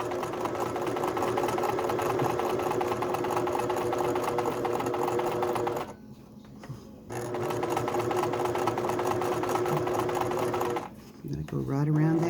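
A sewing machine stitching embroidery, a fast steady whirring needle rhythm close up that stops briefly twice before resuming, with a voice talking over parts of it.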